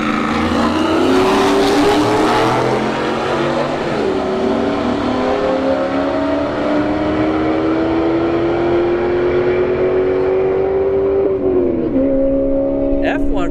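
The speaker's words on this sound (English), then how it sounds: "F-150 goes 111 miles an hour." A Ford F-150 pickup running at a drag strip, its engine droning loudly and steadily with rising revs throughout, with people talking over it.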